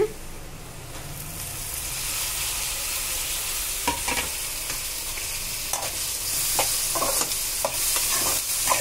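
Eggs fry with onions and tomatoes in a pan, a steady close sizzle under repeated scraping and stirring strokes that come more often toward the end, with no talk.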